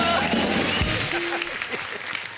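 A television comedy show studio audience claps in a short burst, mixed with crowd murmur and a bit of voice underneath.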